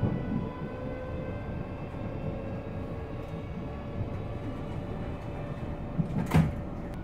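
Steady low rumble and rolling hum inside a moving Class 458 passenger train on a London Waterloo route, constant throughout with a brief knock or rattle near the end.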